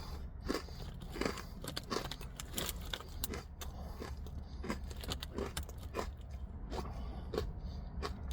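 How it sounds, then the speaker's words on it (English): A parmesan-flavored snack is crunched and chewed up close, a series of sharp crisp bites and crackles at an uneven rhythm, fairly quiet, with no talk. "I just went up close to see if you could hear the crunching through the video."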